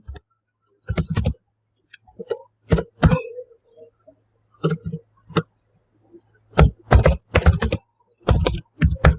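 Computer keyboard typing a network configuration command, in irregular bursts of close, crisp key clicks separated by short pauses, with no voice.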